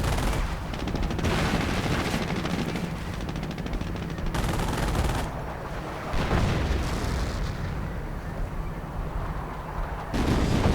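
Dense, loud artillery fire from a World War II strategy video game set in the Normandy bocage, with rolling booms, shell blasts and rattling gunfire overlapping continuously with no pauses.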